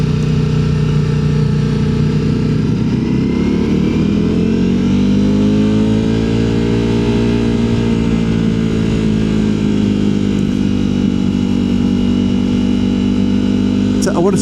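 A car engine pulls in first gear on a mountain road in Andorra, its drone rising and sweeping in pitch as it accelerates steadily, loud and close, with someone talking over it.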